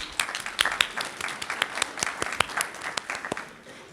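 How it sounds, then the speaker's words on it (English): A room full of people at a school open house claps in lively applause, sharp overlapping hand claps near and loud, tapering off at the end. "Let's give them a round of applause, guys, come on."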